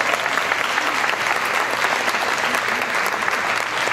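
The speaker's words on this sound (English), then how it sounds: "give her a round of applause for that" Audience applause at a Black Giving Circle gathering, steady dense clapping from a crowd that holds at an even level for several seconds, fairly close and full, with no voices over it.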